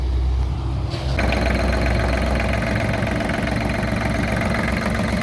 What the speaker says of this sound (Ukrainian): Зараз заведемо.